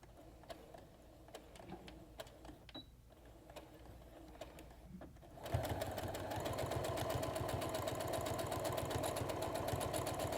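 A sewing machine stitches a decorative top stitch on a fabric headband, backstitching to secure it: soft clicks and handling noises first, then a steady, loud motor whir with rapid needle chatter that runs continuously to the end.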